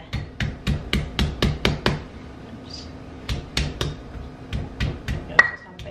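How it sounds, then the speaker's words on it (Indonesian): Garlic pounded coarsely in a stone mortar with a pestle: two bursts of sharp, rhythmic thuds, about eight quick strikes, then a short pause and more blows, close and loud. "Sembari nunggu ayamnya didih, aku ulek bawang putihnya dulu."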